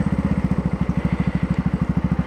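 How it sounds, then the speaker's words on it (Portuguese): A small motorcycle engine runs close by with a fast, even putter, its rapid regular exhaust pulses beating steadily with no talking over them. "Pensa numa motinha frenética."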